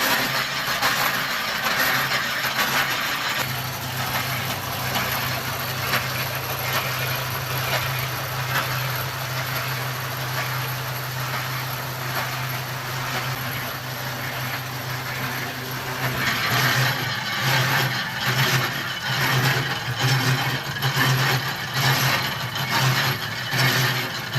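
A flour dough kneading machine runs with a continuous mechanical churning and rhythmic clanking, droning steadily at close range and growing a little busier and louder toward the end, with no speech.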